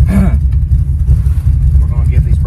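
An old Chevrolet Nova engine, restarted after 24 years parked, rumbles low and steady up close, and someone talks over the running motor.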